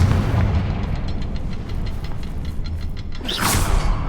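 A Confringo blasting spell erupts in Hogwarts Legacy, a loud whooshing burst near the end following a rumbling, crackling bed of game noise.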